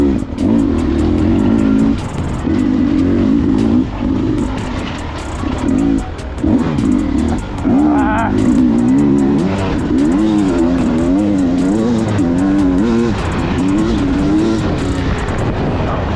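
Beta dirt bike engine revving hard while climbing uphill off-road, a loud, close, wavering drone with repeated throttle blips and brief drops between surges.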